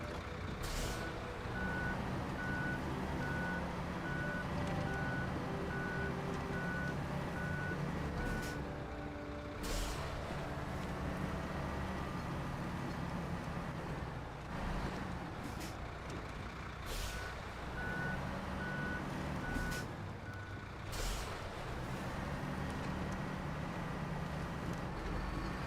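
A Kenworth truck in the video game SnowRunner backs up with regular reversing beeps over a low engine rumble, broken by several short air-brake hisses, all at moderate volume.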